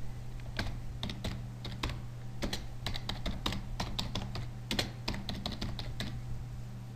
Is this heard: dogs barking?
no